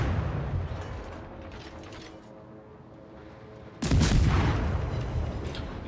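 Heavy naval gunfire in World of Warships, with the battleship Arizona firing armor-piercing shells: low rumbling booms, then one loud blast about two-thirds through that rolls on and fades slowly, with no talk.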